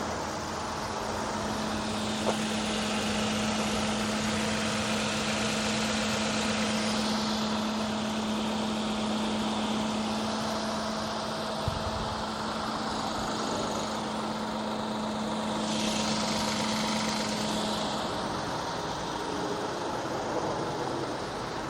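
A 2018 Genesis G80 3.8 Prestige AWD sedan idles steadily with its V6 engine, a constant low hum with a faint whine, heard close and alone without talk.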